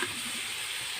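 Pork sizzling as it cooks in a pan, a steady close-up hiss of frying that holds evenly through the whole short stretch, with no talking.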